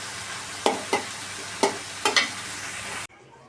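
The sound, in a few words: onions frying in a pan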